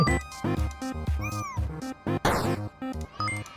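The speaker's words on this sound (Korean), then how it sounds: "냐옹 냐옹 냐옹 냐옹" Cartoon cats meow repeatedly in a fighting video game, a quick run of bright, close, synthetic meows in a bouncy rhythm over a looping game tune, with a sliding effect sound midway.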